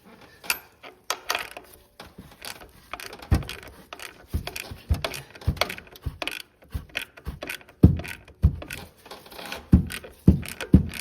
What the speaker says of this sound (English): I'm going to use the ratchet because I don't really have time.